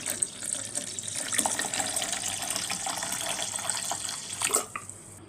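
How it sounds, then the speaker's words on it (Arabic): A liter of water pours onto lemons and mint with a steady splashing gush lasting several seconds, close by, ending with a brief burst of splashing. "وعليهم لتر مية،"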